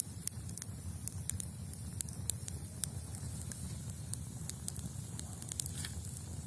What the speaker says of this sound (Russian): костер разжег